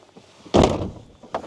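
A camper van door slams shut once, a single loud close thunk with a brief rattle, followed by a smaller knock moments later.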